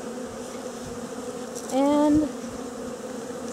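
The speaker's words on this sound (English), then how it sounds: "the bees can sip from that, so they're all surrounding it" Honeybees from a package swarm around a feeding can, a continuous close droning buzz that briefly swells louder as one bee passes near, with a single spoken word.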